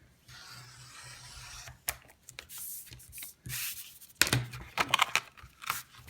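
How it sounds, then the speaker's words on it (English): A blade cuts carton along a ruler with a soft rasping scrape, broken into several short scratchy strokes, close and quiet. "I just put that ruler here like that, and then just cut my carton"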